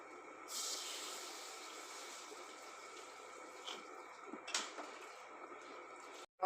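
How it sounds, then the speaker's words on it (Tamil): Water pours steadily into a cooking pot for vegetable curry, with a soft hissing splash, fairly quiet, ending with a brief metallic clatter. "நீங்கள் தேவையான அளவு தண்ணி ஊற்றிங்க"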